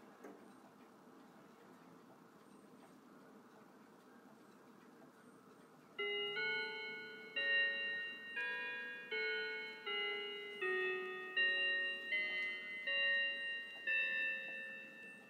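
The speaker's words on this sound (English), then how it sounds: "now here's a half hour Ave Maria chime" A Howard Miller Langeland mantel clock plays its half-hour Ave Maria chime: after several seconds of quiet room hiss, a clear sequence of bright, ringing bell-like notes starts and keeps going in a steady melodic rhythm, close and fairly loud.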